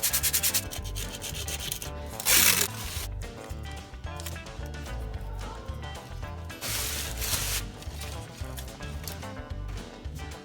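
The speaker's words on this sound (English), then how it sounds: "After a considerable amount of filling and then sanding" Steady rhythmic sanding of wood filler, a coarse abrasive rubbing repeated in quick strokes with occasional louder scrapes, close and continuous for several seconds.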